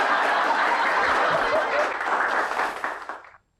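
An audience on a Hindi television comedy show bursts into loud, sustained applause mixed with some laughter, with the clapping fading away toward the end.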